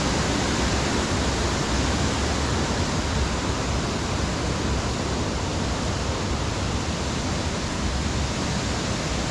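Harmby waterfall pours in a steady, broadband rush of falling water, close and unbroken for the whole stretch with no voices over it.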